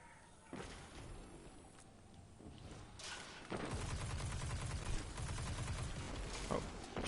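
Video game gunfire striking a wall, with sharp, scattered shots early on, then a denser rattling burst of rapid fire that continues steadily to the end, sitting under a faint background.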